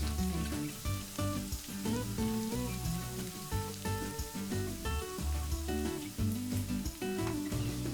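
Cubed potatoes fry in a pan for a dhaba-style aloo matar, giving a steady, continuous sizzle that runs the whole time at an even, moderate level.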